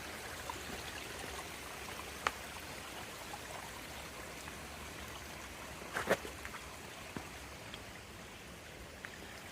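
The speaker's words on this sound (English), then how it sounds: "Tiny little stream here. Not much water in it, but" Tiny, low-water stream flowing over rocks beside the Appalachian Trail, a steady soft wash and trickle with a few brief splashes or taps, fairly quiet and alone.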